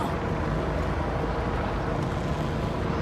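A fountain boat on open water near the Empire State Building in New York throws up a steady, loud, broadband rush of spraying water and wind, with no break across the whole stretch.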